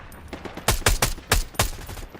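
Video game gunfire from an online multiplayer shooter, with several sharp, loud shots cracking out in quick bursts over a low background ambience, no talking.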